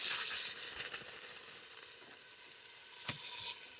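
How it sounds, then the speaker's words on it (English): Three stalks of chopped celery and one onion sauté in a pan with a soft, continuous sizzle and hiss, plus a brief clatter near the end. "just saute 3 stalks of chopped celery and 1 onion"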